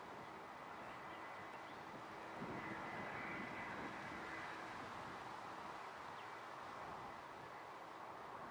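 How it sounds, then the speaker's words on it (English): A SunExpress airliner arriving at Manchester Airport gives a faint, distant, steady jet roar that swells slightly partway through, alone with no talk. "Sun Express just arriving as well."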